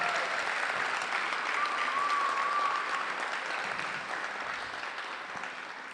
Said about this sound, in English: would you all please give a round of applause for this incredible public servant,